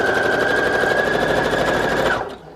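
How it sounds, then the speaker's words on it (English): A sewing machine stitches a short line along the edge of a handmade journal, a rapid close mechanical rattle with a high whine that runs steadily for about two seconds then stops abruptly. "I'm gonna go ahead and sew just a little line down like that"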